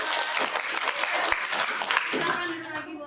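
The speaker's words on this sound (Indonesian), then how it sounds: "Ya, oke, tepuk tangan." Classroom audience applauding during a school teaching session, a steady wash of many hands clapping for about three seconds with voices mixed in.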